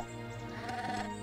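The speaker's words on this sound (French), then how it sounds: "Oh, ils font des bruits de chèvre." Goat-like creatures in the video game Starbound bleat in a short, wavering nasal call, fairly close and over a soft musical background.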